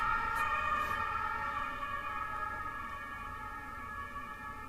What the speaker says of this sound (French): c'est parfois relou ouais, d'entendre les sirènes de la police